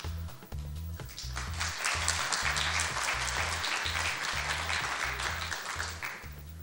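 Sustained applause from an audience welcoming a lecturer, the head of an anesthesiology department, at a hospital staff meeting; dense, steady clapping filling the room for several seconds, with a low rhythmic hum beneath it.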